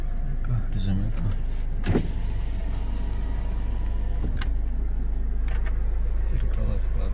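Power-folding side mirrors on a Kia Sorento whir as their motors run, a mechanical hum over a steady low drone from the vehicle, with a couple of sharper clunks near the start and midway.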